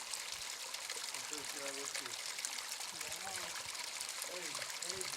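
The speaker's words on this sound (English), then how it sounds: "It's another spot where water's just coming out of the side of the rocks." Spring water trickles and splashes steadily out of a rock crevice beside a hiking trail, a quiet continuous babble with soft gurgles, heard from close by.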